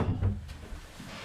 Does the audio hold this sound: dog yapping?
no